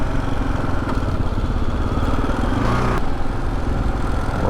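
A Kawasaki KLR 650 Adventure motorcycle is ridden on a winding mountain road, its mid-pitched single-cylinder engine droning steadily and loudly throughout, with wind rush and a few faint clatters over it.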